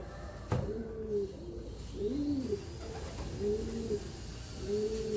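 Racing pigeon cooing in a loft, several soft repeated low coos in a rhythmic pattern, close by, with a brief sharp click near the start and light background hiss.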